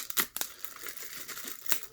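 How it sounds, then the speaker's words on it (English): Packing tape is peeled from a FoodSaver 2 in 1 vacuum sealer box, giving a few close, sharp tearing rips followed by softer crinkling. "We're going to peel off the tape."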